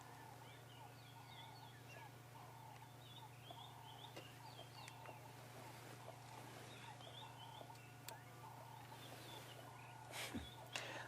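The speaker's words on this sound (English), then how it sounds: "There you can hear all the birds calling now." Many birds calling together in the early morning on an African safari, a dense chorus of chirps and calls spread across the whole stretch over a steady low hum, with a louder burst near the end.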